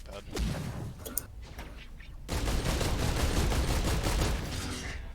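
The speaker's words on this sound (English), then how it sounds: "Was that you shooting at me?" Gunfire in the video game Risk of Rain 2: a rapid burst of shots, then a dense, continuous barrage of fire, loud and steady.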